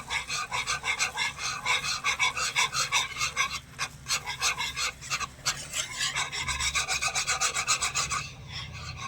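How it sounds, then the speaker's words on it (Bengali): A whisk beats powdered milk into a mixture in a pan, giving fast rhythmic scraping strokes close up, steady for most of the stretch with a short pause midway and no talking. "একটা হুইক্স দিয়ে ভালো করে মিশিয়ে নেব"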